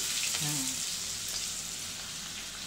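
Onion and curry leaves fry in hot oil, giving a soft, steady sizzle and hiss at low level with a brief faint voice-like tone early on.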